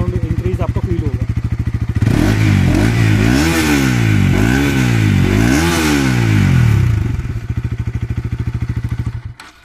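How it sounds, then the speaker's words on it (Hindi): Bajaj Pulsar RS200 BS6 motorcycle idling with a steady thump, then revved several times in rising and falling surges, loud and close, before it settles back to idle. "अब मैं इसको थोड़ा सा रेव करता हूं तब देखते हैं कितना साउंड इंक्रीज आपको फील होगा।"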